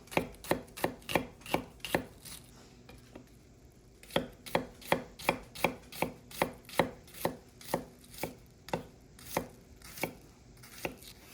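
Knife chopping an onion on a cutting board, a steady run of sharp close knocks, with a brief pause near the middle before the rhythm resumes, alone without talk.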